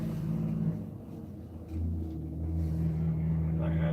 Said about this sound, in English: I think that's a good sound of Kenworth right there.